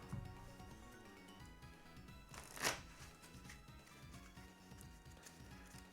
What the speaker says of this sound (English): Alright, so we're shuffled.